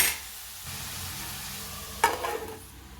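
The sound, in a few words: raw mango curry frying on low flame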